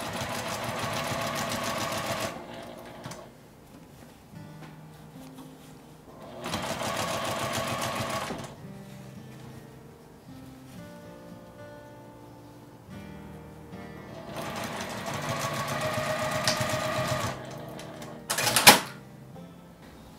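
A sewing machine runs in three bursts of rapid, even stitching as it sews a fabric pen case with a divider, with quieter handling sounds between the runs and a sharp click near the end.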